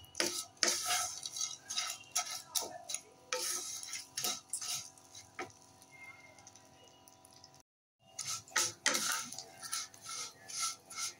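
Vermicelli fries in hot ghee in a pan, heard as repeated close clinks and scrapes of a spoon stirring against metal over a low sizzle, with a brief silent gap partway through.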